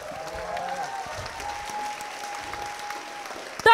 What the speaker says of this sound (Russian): Ну, молодцы, ладно, аплодисменты вам.